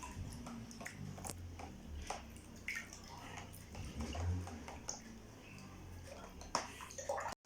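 A hand stirs soapy bath water in a tub while dolls are washed, giving soft splashing and sloshing swirls that stay faint and close, with a few drips and light knocks.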